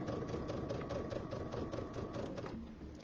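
A sewing machine stitching with darker thread, running steadily and continuously at close range with a fast, even mechanical patter and no talk over it.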